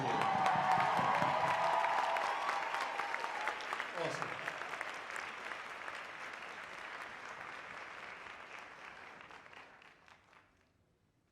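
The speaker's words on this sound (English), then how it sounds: "Let's have another round of applause for the Impact Repertoire Award." Audience applause rings out at an evening community event honoring the Impact Repertoire Award, dense clapping filling the room and slowly thinning out, with a brief spoken word over it.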